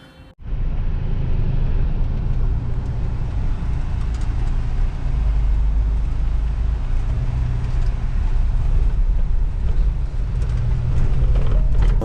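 A car grinds along rough off-road jungle tracks in Simlipal National Park, a loud steady engine drone and road rumble heard from inside the vehicle, starting abruptly after a brief quiet moment.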